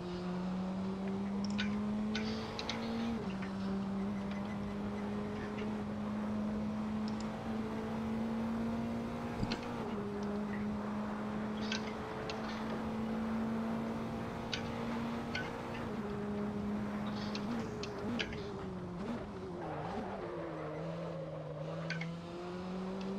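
Racing car driven to warm its tyres at Zandvoort in Assetto Corsa, a steady engine drone that holds pitch then drops and rises near the end, with faint ticking clicks throughout.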